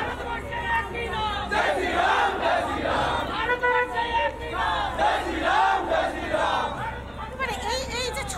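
A large procession crowd at Ram Navami in Ayodhya chants slogans in loud, rhythmic collective shouts that rise and fall in waves, filling the space continuously, with no single voice standing out.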